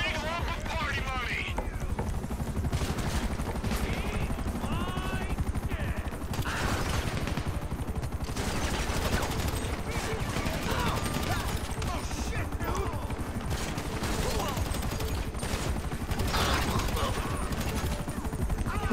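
Helicopters and rapid gunfire in the online mode of the video game GTA V: dense bursts of shots over a constant rotor drone, steady throughout, with people talking over the action.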